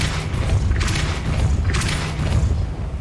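A deep, booming blast from the Depulso spell cast in the video game Hogwarts Legacy, loud and sustained with rumbling low end for a few seconds.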